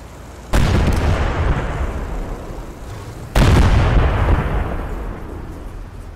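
Two heavy cannon and artillery blasts in the WWII video game Call to Arms Gates of Hell, each a sudden loud boom with a long rumbling decay, spaced about three seconds apart.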